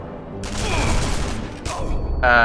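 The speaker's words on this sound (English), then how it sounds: "someone's shooting at me" Gunfire in the video game Sniper Elite V2 rattles in a loud, dense, continuous volley aimed at the player, close and booming, with a brief break before a final burst.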